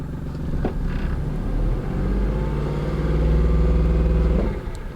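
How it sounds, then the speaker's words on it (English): A 2001 Honda Insight's engine is floored to full throttle with the car held on the brake, giving a steady, loud revving drone that swells and holds for several seconds before dropping off. No one speaks over it. "we're gonna rev the engine for 3 seconds"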